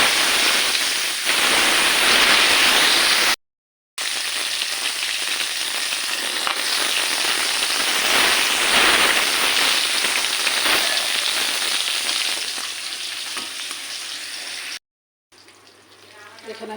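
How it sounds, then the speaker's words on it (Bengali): Pangas fish frying in oil in a pan, a steady loud sizzle and crackle that continues through two short gaps before dropping to a quieter sizzle near the end. "আর এখানে আমি মাছটা ভেজে"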